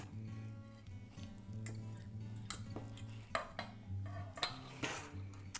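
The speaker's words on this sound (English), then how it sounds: "so we're going to mix that into our peanut butter" A utensil stirring tamari into peanut butter in a bowl, giving soft scraping and light clinks over a steady low hum, with a few sharper knocks toward the end.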